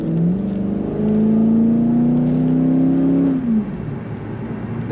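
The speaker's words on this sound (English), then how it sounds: "This Corvette has a nice rumble to the exhaust" A 1998 Chevrolet Corvette convertible gives a deep exhaust rumble as it revs, the tone climbing steadily and then dropping back near the end to a lower, rougher idle. It is close and loud, with no talk over it.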